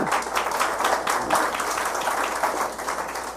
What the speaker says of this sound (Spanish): De un aplauso al Señor Jesús